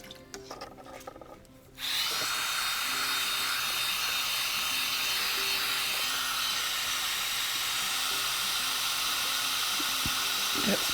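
A heat embossing gun switches on and blows hot air in a steady, loud hissing whoosh that continues without a break after a few quiet handling noises.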